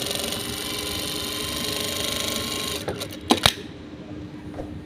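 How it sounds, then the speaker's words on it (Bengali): A Brother 7250a sewing machine stitches with a steady, fast mechanical whir, then stops and gives a few sharp clicks before falling quiet. "এগুলো মেশিন এখন সেলাই করে দেখাবো সেলাই করতেছি"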